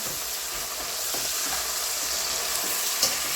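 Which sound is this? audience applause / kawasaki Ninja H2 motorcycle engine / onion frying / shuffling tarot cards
onion frying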